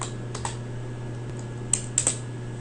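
A few scattered keystrokes tap on a computer keyboard, sharp and isolated clicks over a constant low electrical hum.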